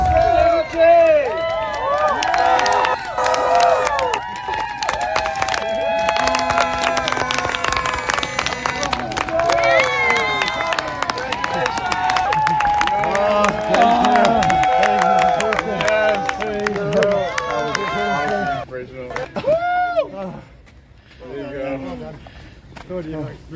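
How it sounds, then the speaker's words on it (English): A lively live-show crowd cheers and claps amid overlapping shouts and voices, loud and sustained, thinning out toward the end. "Big round of applause for Sandra J."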